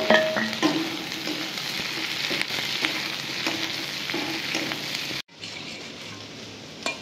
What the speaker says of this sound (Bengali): এবার পেঁয়াজগুলো দিয়ে দেব। পেঁয়াজগুলো হালকা ভেজে নেব, বেশি ভাজবো না।